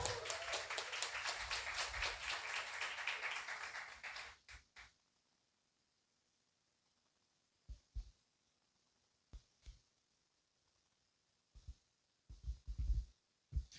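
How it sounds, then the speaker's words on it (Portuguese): A church congregation applauds during an evening service, a dense, steady wash of clapping for about four seconds that stops abruptly, followed by quiet broken by a few scattered soft thumps. "aplauda o Senhor Jesus pela vida do Arthur"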